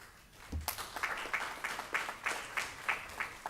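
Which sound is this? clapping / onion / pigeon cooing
clapping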